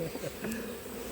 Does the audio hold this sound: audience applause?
no